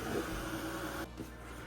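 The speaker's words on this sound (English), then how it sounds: "This time I'm gonna use a heat tool and I'm going to dry the whole thing." A heat tool blows continuously over an art piece to dry it, a steady whirring hum with a slight shift partway through, close and constant, with no voices.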